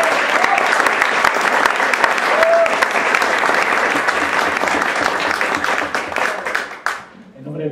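Loud, dense applause from an audience at a book presentation for author Alejandro Horowicz, continuous clapping for about seven seconds that then tapers off.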